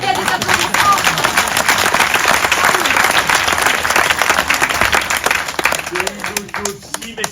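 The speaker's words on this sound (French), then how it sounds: "Ça mérite bien des applaudissements." Theatre audience at a French stage comedy breaks into loud, dense applause that holds steady for several seconds, then thins out as a voice begins over the last clapping.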